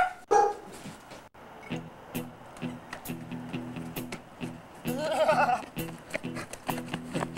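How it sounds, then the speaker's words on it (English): Dog barks and yips repeatedly in a home, sharp close bursts mixed with whimpers over background music and brief speech. "Can you get the dog to be quiet?"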